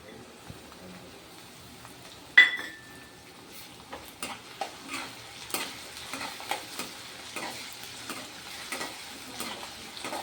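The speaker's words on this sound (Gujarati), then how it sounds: "આદુ લસણની પેસ્ટ સતળાય ત્યાં લગી" Two spoonfuls of ginger garlic paste sautéing in a pan over golden fried onions for rajma masala, a soft sizzle under repeated scraping strokes of a spoon, with one sharp clink early on.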